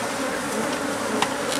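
African bees buzz steadily around an emptied hive, a dense insect drone filling the short stretch, close and continuous with a slight swell near the end.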